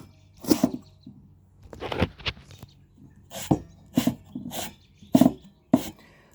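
A fitting brush scrubs the end of a 1/2 inch copper pipe, making short, close, raspy rubbing bursts separated by brief pauses.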